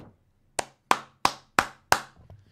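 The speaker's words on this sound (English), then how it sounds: "I don't know why I feel the need to clap every single time I hit something on the bingo board" Five sharp hand claps in a quick, evenly spaced run, close and loud against near silence, from someone playing bingo.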